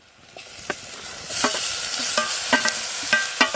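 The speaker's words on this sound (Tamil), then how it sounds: "இப்போ வந்து வெங்காயம் வந்து நல்லா வதங்கிச்சு இப்போ வந்து தக்காளி போட்டுக்கலாம்" Onions frying in a pan as tomatoes are added, a steady close sizzle rising in intensity, broken by a few scraping stirs and clinks.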